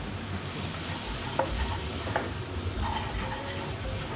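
Ground coriander, cinnamon and ginger fry in a pan while a spoon stirs them, giving a steady hiss of sizzling with scraping stirs and a few light knocks against the pan.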